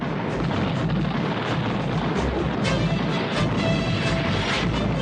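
A ship exploding in a G.I. Joe cartoon: a dense, sustained roar of blasts and rumbling booms at constant loudness, with crackling debris layered through it and no voices.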